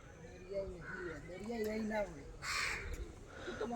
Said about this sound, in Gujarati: આ પક્ષીને તો મિત્રો તમે જોઈ જશે, કાગડો.